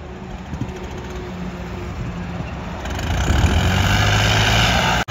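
A John Deere 5039 tractor engine idles with a steady low rumble, growing slightly louder and rougher partway through before cutting off at the very end.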